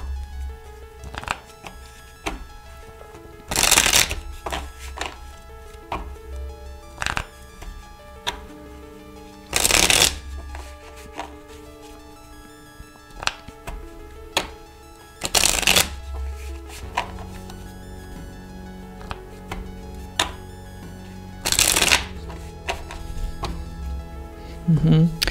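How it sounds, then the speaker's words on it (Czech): Tarot cards being shuffled by hand during a card-reading session, with repeated papery riffles and soft slaps of the deck, broken by several louder thumps as the cards are knocked or set down, all under ongoing talk. "Ale mám zamíchat i tyhle kartičky"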